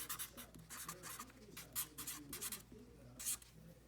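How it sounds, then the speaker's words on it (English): A name being written at the top of a worksheet: quiet, close scratchy pen strokes come in short rhythmic bursts, alone and faint. "gonna write her name at the top"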